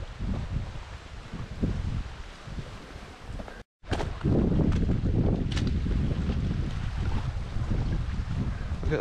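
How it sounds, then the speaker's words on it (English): Strong wind buffets across the open water of Lintrathen Loch in Scotland, a loud continuous roaring rush with gusting microphone noise that cuts out for a moment, then returns even heavier and steadier. "Whoa, the wind's getting stronger around here now."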